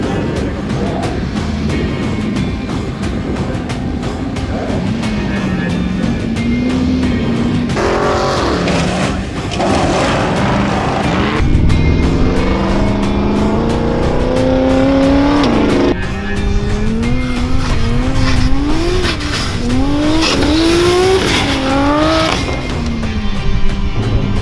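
Australian two-wheel drive off-road racing cars roar loudly nearby, engines revving up and down through gear changes as they accelerate and pass, with tyre noise and a rising, sustained engine whine.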